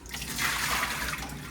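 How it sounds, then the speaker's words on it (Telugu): Water splashes and churns steadily as tomatoes and onion are washed by hand in a bowl, a close, continuous wet sloshing. "ముందుగా టమాటోస్ వాష్ చేసుకుందామా? మంచిగా వాష్ చేసుకోవాలి ఫ్రెండ్స్."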